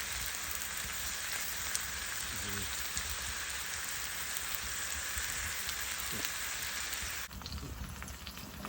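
Steak, onions and peppers frying in a pan on a wood stove in a winter hot tent at a campground, a steady crackling sizzle throughout with faint brief sounds of movement near the end.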